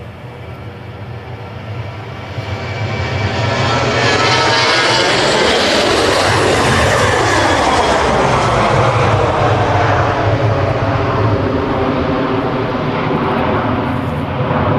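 Ryanair jet departing Manchester Airport runway 23L, its engine roar swelling loud after a couple of seconds and holding at full takeoff thrust, with shifting tones as it passes close by.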